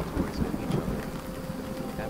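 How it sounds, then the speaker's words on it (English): Thunderstorm with low rumbling thunder and steady rain, a dense low-frequency roar with soft crackling bursts near the start, continuous for about two seconds. "I enjoy the sound of thunder."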